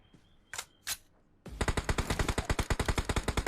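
Rapid automatic gunfire in PUBG Mobile bursts out close and loud as a fast even string of shots, after two isolated sharp shots.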